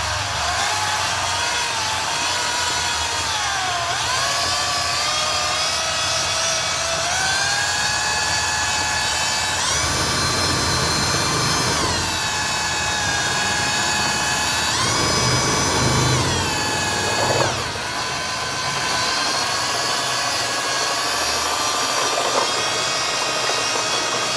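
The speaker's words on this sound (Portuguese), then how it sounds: "Aqui, furadeira tem velocidade aumentada, né?" An electric drill mixing building material whirs continuously and loudly, its whine rising in pitch in stages as the speed increases, with brief dips between.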